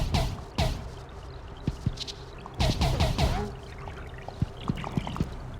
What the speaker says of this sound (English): I guess the dripping goop is not actually dangerous.